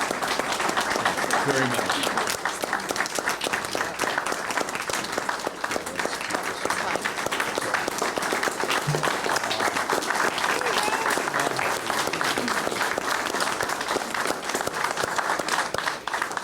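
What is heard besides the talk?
audience applause at Rotary Club presentation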